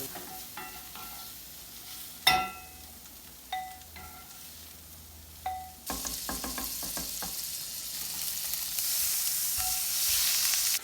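Mushrooms browning in a cast iron pan, with a few sharp utensil taps and scrapes, then a soft sizzle that swells into a louder, steady frying hiss.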